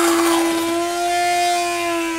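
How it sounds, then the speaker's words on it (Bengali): An electric blender whirs steadily as it blends yogurt, a close, even motor drone with a high whine that holds for about two seconds before cutting off abruptly. "এই দইটাকে আমি খুব ভালো করে ব্লেন্ড করে নেব"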